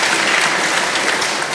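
An audience claps in a brief, dense burst of applause, loud and even throughout, with no voices heard.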